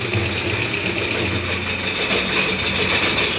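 Electric sewing machine stitching the neck lining of a blouse, a steady continuous motor whir with fast needle chatter running throughout at close range.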